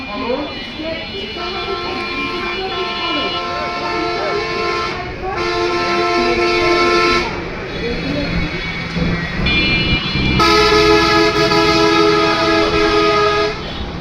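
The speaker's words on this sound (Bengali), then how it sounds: "দেখুন কিছুক্ষণ পর পরই বাস ট্রাক হাইস" A busy Kashimkata highway in Bangladesh with buses and trucks passing loudly and repeated long horn blasts in several overlapping tones, along with continuous engine and road rumble.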